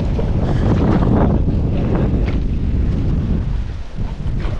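Strong wind by a river buffets the microphone in heavy, roaring gusts, loud and rumbling with no clear talk.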